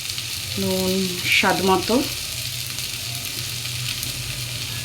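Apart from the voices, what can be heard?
spice paste frying in oil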